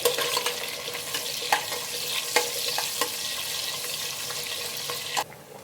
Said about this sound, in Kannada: ಅದು ಸ್ವಲ್ಪ ಗೋಲ್ಡನ್ ಬ್ರೌನ್ ಬರೋವರೆಗೂ ಫ್ರೈ ಮಾಡ್ಕೊಳ್ಳಿ